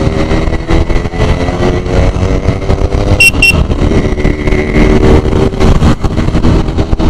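A KTM Duke 250 motorcycle engine runs loud and close, a rough continuous throb with rising and falling revs, plus a brief electronic beep midway.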